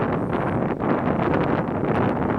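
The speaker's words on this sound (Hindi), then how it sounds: "हाँ बिल्कुल तेज हवा है यहाँ पे" Strong wind blows across an outdoor cricket ground during a match, a loud continuous rumbling buffet on the microphone with no break.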